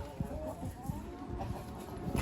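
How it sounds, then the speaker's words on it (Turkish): Chickens cluck and roosters call nearby in short, repeated bursts over a low background hum. "Bakın burada horozlar var."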